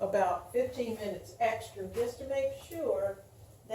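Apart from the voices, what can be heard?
No everyday noises stand out.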